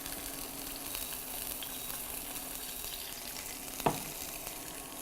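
White Mexican cheese fries in a pan with a steady, close sizzling hiss, broken once by a single sharp knock near the end.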